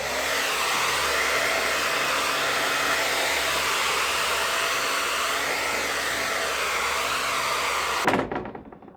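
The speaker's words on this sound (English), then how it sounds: "I'm gonna see if my blow dryer here for the grip tape is strong enough to get all this wood and metal dust off" A handheld blow dryer roars steadily at close range, blasting wood and metal dust off a skateboard truck, then cuts off abruptly near the end with a few clunks of handling.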